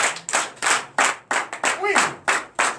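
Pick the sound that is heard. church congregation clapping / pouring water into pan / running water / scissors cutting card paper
church congregation clapping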